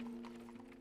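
A horse's hooves hurry along, drawing a carriage through a cold night in 1896, the clip-clop close and steady over a constant low hum.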